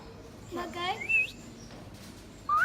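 A talking parrot squawks out a short, chirpy greeting that imitates a human voice, a few quick warbling syllables followed by another burst a moment later, close and fairly quiet.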